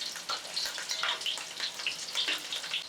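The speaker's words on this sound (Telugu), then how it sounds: "కొంచెం మీడియం ఫ్లేమ్లో పెట్టుకుంటే ఏమవుతుందంటే ఆనియన్ అనేది మంచిగా ఫ్రై అవుతుంది" Onions fry in a pan over a medium flame, giving a steady close sizzle with crackling pops and occasional stirring, no voices.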